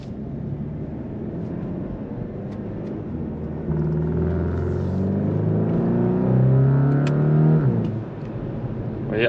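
A Volkswagen T-Roc R's 300-horsepower engine revs up in race mode with exhaust flaps open, a deep, raspy note that swells louder and harsher, rising in pitch before dropping back, close by.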